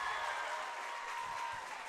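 Crowd applauding and cheering at a boys' high school basketball game between Clay County and Jackson County, a steady loud wash of clapping and noise filling the gym late in the game.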